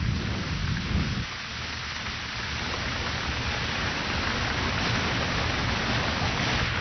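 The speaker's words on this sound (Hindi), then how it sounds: "ये बादल करीब साल भर से तपती इस सरजमीन पर सुकून भरी बारिश लाएंगे।" Heavy rain pours steadily with a deep, continuous rumble of thunder underneath, dense and enveloping throughout.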